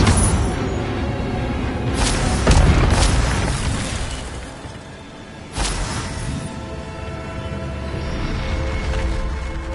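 A fiery Incendio spell in the Hogwarts Legacy video game erupts in loud booming bursts and whooshes, with two sharp blasts over rumbling, crackling fire that gradually fades.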